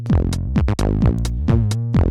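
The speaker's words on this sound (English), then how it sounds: "So that's Germanium clipping up and one of the silicon diodes clipping down." A synth line run through a FuzzBillion fuzz pedal with asymmetric germanium and silicon diode clipping, heard as a loud, buzzy, distorted repeating bass pattern of plucked notes with pitch drops, pulsing in a steady rhythm.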